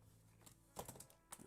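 A computer keyboard clatters with a few quiet, quick bursts of keystrokes, faint and close, separated by short pauses.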